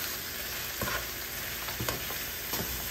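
Anchovies and jengkol beans stir-fried in a pan for a sambal, giving a steady, dense sizzle throughout with a few soft scraping stirs of the spatula; no talking.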